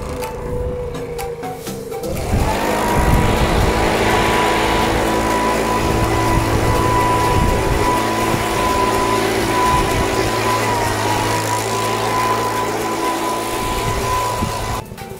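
A leaf blower blows dust off a combine harvester during the harvest season. It starts after a quiet moment and then runs as a loud, steady, close motor roar with a constant whine.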